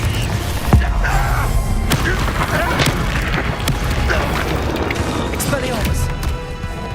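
Confringo fire spell blasts in Hogwarts Legacy combat, repeated booms and crashing thuds amid a busy fight, loud and close, with a voice shouting spell names over the impacts.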